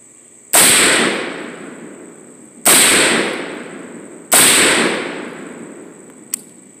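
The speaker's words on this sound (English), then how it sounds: "I'm going to take a 3-shot group, go down and look at it, see how we did" An AR-15 rifle firing 55-grain full metal jacket rounds outdoors: three loud, sharp cracks about two seconds apart, each trailing off in a long echoing decay.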